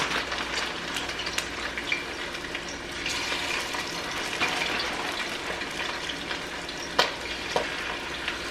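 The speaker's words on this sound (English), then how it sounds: "I'm gonna fry these pieces of chicken." Pieces of General Tso chicken frying in hot oil, a steady close sizzle and bubbling crackle with occasional sharper pops and a few clinks from the pan, with no talking.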